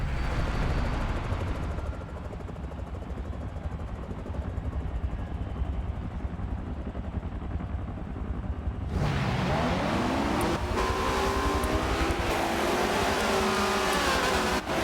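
Race cars idle and rumble steadily on a starting grid before the first race of the Rising Sun Series, then engines rev up loudly and pitch rises as the field pulls away, with continuous dense motor noise throughout.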